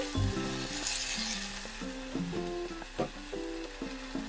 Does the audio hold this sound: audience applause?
no